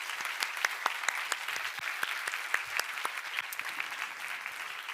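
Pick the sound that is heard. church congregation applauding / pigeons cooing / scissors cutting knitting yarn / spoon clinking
church congregation applauding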